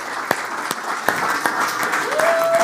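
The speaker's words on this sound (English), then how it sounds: "So a round of applause for Katie as she comes." Applause from an audience welcoming a speaker at a women's football event, steady clapping across the whole stretch with a few sharper claps standing out and a faint tone rising near the end.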